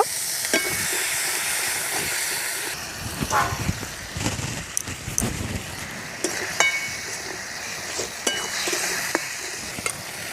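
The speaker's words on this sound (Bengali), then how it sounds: "মশলাটা খুব সুন্দরভাবে ভাজা হয়ে গেছে" Spice masala of turmeric and chili powder frying in oil with a splash of water for a village-style fish curry, a steady close sizzle with stirring scrapes and light clinks throughout.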